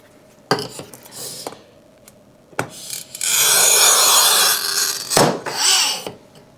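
Glass is scored with a Creator's Strip Pro cutter: sharp taps and clicks, then a few seconds of gritty scraping rub up close, followed by more short strokes and knocks.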